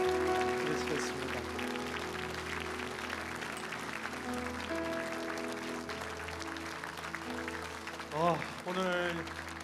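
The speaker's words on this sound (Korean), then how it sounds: "찬양 주신 성가대 우리 찬양대에게 큰 축복의 박수를 함께 드리시겠습니다" A church congregation applauds the choir at a Sunday worship service, soft sustained clapping heard faintly beneath voices and held tones, swelling briefly near the end.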